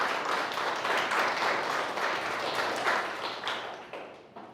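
A church congregation applauds during a sermon, a broad sustained wash of many hands clapping that holds steady, then thins and tapers off toward the end.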